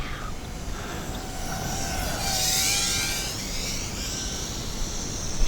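A DYS X160 micro FPV race drone, flying with a stuttering motor, makes a thin whine that rises and falls in pitch as it moves, heard at moderate distance over a rough background rumble.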